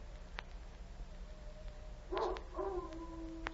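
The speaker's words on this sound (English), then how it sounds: "Sounds like a dog howling." A dog howls in a radio drama sound effect, a faint, distant wavering cry rising out of a quiet hiss, repeated in two short drawn-out bursts near the end.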